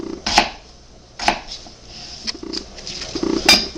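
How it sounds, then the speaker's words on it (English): A kitchen knife cuts a potato into bite-sized pieces on a board, with about four sharp, separate chopping knocks spaced roughly a second apart and a few softer taps between them. "We're just going to cut this in small little bite-sized pieces."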